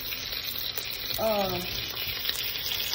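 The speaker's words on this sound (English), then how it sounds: "you hear that bacon sizzling?" Bacon sizzles and crackles steadily in a skillet, with a brief voice murmuring over the frying partway through.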